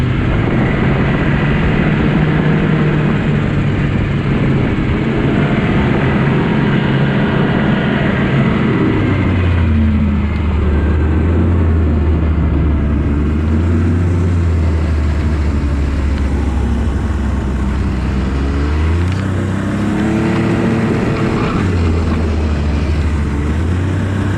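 A snowmobile engine drones loudly and continuously while riding a trail, its pitch rising and falling in slow swells as the throttle changes, close and with no speech.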